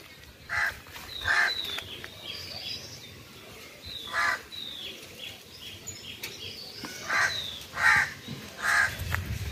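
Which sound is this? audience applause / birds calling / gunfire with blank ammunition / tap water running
birds calling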